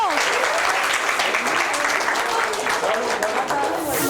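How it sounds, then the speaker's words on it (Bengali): Sustained audience applause fills a college talk event hall, a dense steady wash of many hands clapping loudly throughout with no pause. "কে আবার জোরে হাততালি একবার এর জন্য"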